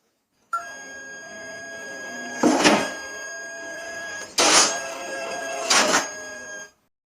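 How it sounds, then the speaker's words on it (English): An AI-generated scene of a cat knocking into a printer gives a steady mechanical hum broken by three sharp clattering impacts, then stops. "this is basically a printer and the cat, it's gonna hit the printer. So we have both sounds, both of the cat and of the printer."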